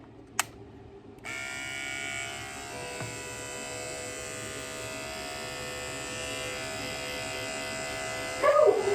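Electric dog grooming clipper switches on after a brief click and runs with a steady, close buzzing hum, then a dog's short noises near the end.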